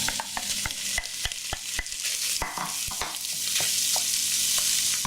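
Lardons frying in olive oil in a hot pan, a constant dense sizzle close up, punctuated by sharp utensil taps and scrapes against the pan, with the sizzle swelling slightly louder toward the end.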